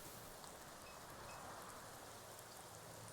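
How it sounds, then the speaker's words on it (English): A steady rain downpour falls into a canal in the video game NORCO, a dense, even hiss of water that holds at the same level throughout, with no voices or other sounds. "Downpour finds its way into the canal"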